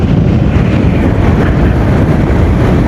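Strong wind buffets the microphone while a rider cruises a 2026 Honda CBR 150R motorbike on an open road near Patenga, making a loud, steady roar that never lets up.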